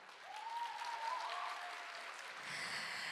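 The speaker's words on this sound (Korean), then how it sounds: "여러분 박수로 보내주시기 바랍니다" An audience applauds at a youth orchestra's regular concert, a soft, distant wash of clapping with a faint tonal sweep running through it.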